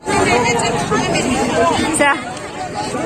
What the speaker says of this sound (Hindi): बाकी आगे पीछे ना एकदम ज्यादा वाला भीड़ है।